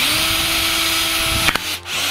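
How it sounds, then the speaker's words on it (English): A power drill bores through a piece of wood during household electrical wiring work, a steady loud whine holding for about a second and a half before cutting off sharply as the bit breaks through, followed by a brief quieter whir. "if you're going to be stupid like me and hold the thing while you're drilling it"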